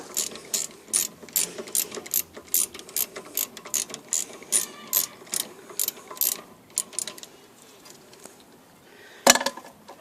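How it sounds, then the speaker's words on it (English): A 14mm socket ratchet undoes a brake caliper bolt on a 2009 Mazda 6 during a rear brake pad job: a series of quick, crisp clicking bursts close by, with a louder metallic clank near the end. "take a 14mm socket and then just undo the top caliper bolt"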